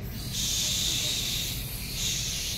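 A voice imitates a snake's hiss, as in a children's story about a frog and a snake: two breathy, steady hisses, one long and one shorter, close and fairly loud.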